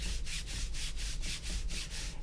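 Arm rubbing back and forth across a Waizowl Raven mousepad surface, a loud rough scraping in about eight quick, even strokes, close up with no talk.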